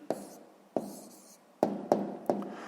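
Pen strokes writing an answer by hand on paper during a sixth-grade maths exercise: five sharp scratchy strokes in an uneven rhythm, close and fairly quiet, with no talk.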